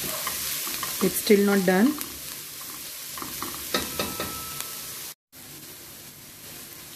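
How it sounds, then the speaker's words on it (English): Onions sautéing in a pan for a dhaba-style paneer methi dish, a steady frying sizzle with stirring scrapes throughout, briefly under a short spoken remark, then a momentary dropout before the sizzle resumes. "Here we have to saute onions for 4 to 5 minutes until dark brown. Keep stirring in between."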